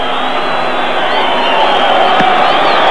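Dense stadium crowd noise rising into a sustained roar of booing and jeering as Júnior Baiano warms up before a 1997 international friendly between Brazil and Wales, loud and continuous with no clear breaks.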